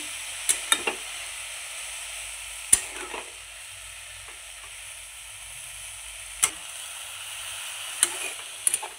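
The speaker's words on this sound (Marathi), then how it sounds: "धुतलेली भाजी टाकायची. आता हे परतून घ्यायचे." Washed shepu (dill) greens sautéing in a pan, a faint continuous sizzle with occasional sharp taps and scrapes of the spatula against the pan, no talking.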